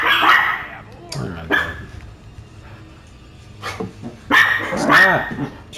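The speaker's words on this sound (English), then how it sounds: "Hey, stop, bro. You're barking at your own echo." A dog barks in a few loud, separate bursts with a growly edge, set in the eerie indoor spaces of the horror game The Outlast Trials, with quiet gaps between the outbursts.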